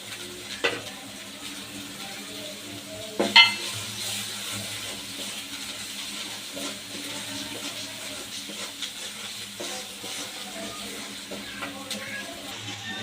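Prawns frying and being stirred in a pan while cooking a prawn and bottle gourd shukto, a steady low sizzle with an occasional sharper scrape or clatter near the start, continuing evenly throughout.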